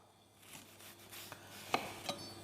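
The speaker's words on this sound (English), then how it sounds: "Chopping onions is like lesson 1 at cooking college" Someone chops onions with a kitchen knife on a board in a quiet kitchen, giving a few soft cutting strokes and two sharper clicks of the blade striking the board.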